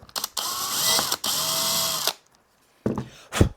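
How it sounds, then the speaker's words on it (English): A power drill whirs in two long bursts, drilling a 4 mm hole into wood, followed by silence and a couple of short clunks and knocks. "Drill that hole out to 4 mil."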